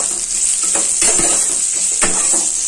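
Onions sizzle steadily in a hot pan, a loud continuous frying hiss with occasional stirring scrapes and clinks of a utensil against the pan, close up.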